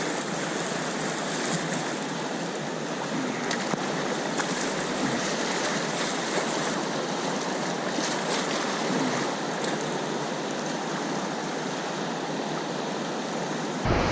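River water pours over a weir on the North Umpqua River, a steady, loud, broadband rush that stays unbroken for the whole stretch, with no voices.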